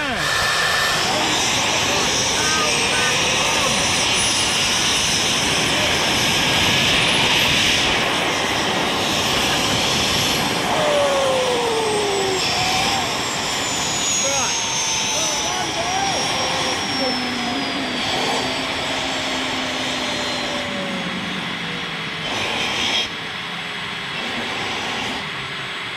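A homemade turbojet engine roars continuously at close range, a loud broadband rush with whining tones that shift in pitch, while people talk over it.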